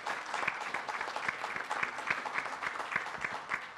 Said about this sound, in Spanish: Un aplauso para María Elvira, por favor.